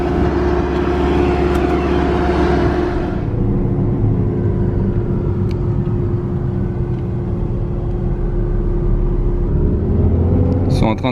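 Porsche Boxster S engine heard from inside the car while driving in Monte Carlo, a loud steady low drone and road rumble, its higher edge easing after a few seconds, continuous throughout.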